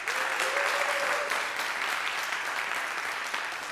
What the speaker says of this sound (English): So one more round of applause for the band.